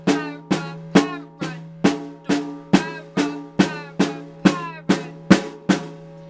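A single drum is struck in a triple paradiddle rudiment, with fourteen crisp, evenly spaced hits ringing with a resonant tone, played alone and up close.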